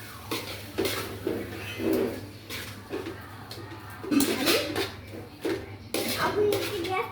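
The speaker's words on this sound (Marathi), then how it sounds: "तिला चांगलं मिक्स करून घ्यायचं नूडल्सला" Veg noodles are tossed and mixed in a metal pan, with irregular bursts of clanking and scraping against the pan, close by and interspersed with quieter gaps, while a faint voice sounds in the background.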